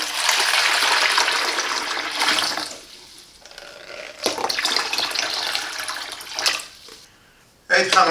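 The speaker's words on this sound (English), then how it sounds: "Fill up with water." Water pours steadily into the plastic tank of a Silvercrest countertop ice maker, a broad rushing gush that pauses midway, then resumes before ending in a short splash.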